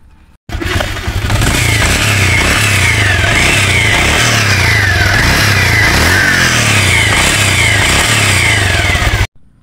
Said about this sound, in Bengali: তো গাড়িটা আমরা সাউন্ড দেখে আসবো